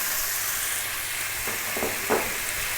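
Chopped onion tipped into browning ginger in a hot pan for a ginger beef stir fry, a steady broad sizzle with a few soft scrapes and a brief louder hiss near the end, no talking.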